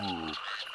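A short animated frog croak, a low, buzzy, pulsing tone lasting under half a second, gives way to brighter chirpy sounds, moderately quiet, in a Gummy Bear cartoon pond scene.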